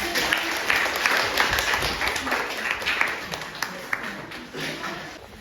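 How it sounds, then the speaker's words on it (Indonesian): An audience applauds a student discussion group in a university teaching session, a steady wash of clapping that holds for several seconds at moderate level with some voices mixed in. "Kita berikan aplaus untuk kelompok"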